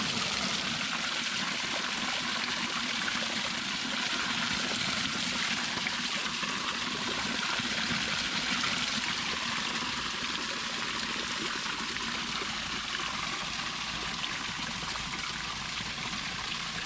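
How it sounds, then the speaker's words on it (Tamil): A small waterfall stream on the Velliangiri hills, a steady rushing and trickling of water, close and continuous with no one speaking. "அப்புறமா வர்ற வழியில் பார்த்தா இங்கே ஒரு குட்டி அருவி கண்ணில் தென்பட்டுச்சு"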